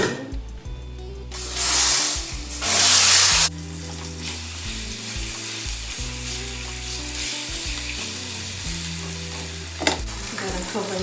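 A Boston shoulder pork roast sears in hot oil in a pot, with a steady loud sizzle and crackle, two louder bursts of hissing spatter early on, and occasional clatter underneath.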